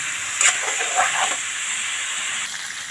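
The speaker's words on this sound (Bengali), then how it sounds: "এই জন্য ভাজার মধ্যে ঘি দিয়ে দিলাম" Cauliflower florets and potatoes fry in hot oil with ghee, giving a steady bright sizzle with a couple of louder spattering bursts near the start, close and without talk.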